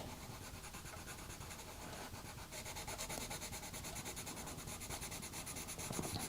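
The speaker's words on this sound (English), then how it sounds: "I want to be able to see it, but I can burnish it in a slightly lighter colour" Colored pencil burnishing and layering a lighter colour on paper for an autumn harvest drawing, a steady continuous rubbing and scratching close up, growing slightly louder partway through, with no talking.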